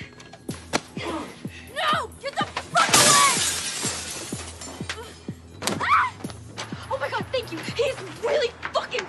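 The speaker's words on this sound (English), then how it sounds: "You broke my glass, huh?" Glass shattering in an acted indoor scuffle, a sharp crash burst amid rattling thumps and clatter, with people talking around it.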